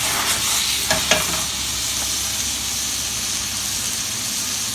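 Asparagus and garlic sautéing in olive oil in a pan, with wine added, giving a steady loud sizzle and hiss close up, broken by a couple of brief utensil clicks early on and no voices.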